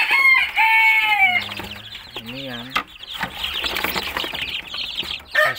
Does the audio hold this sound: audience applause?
no